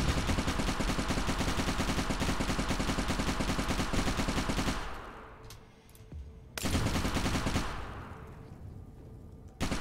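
Robot turret in the Fallout Equestria game firing a sustained, loud burst of rapid automatic shots for several seconds, then a brief pause before a second burst rattles out, with no talking.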